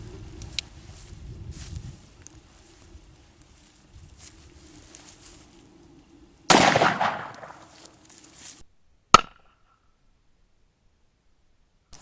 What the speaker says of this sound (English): shooting that one-handed, I knew the gun kicked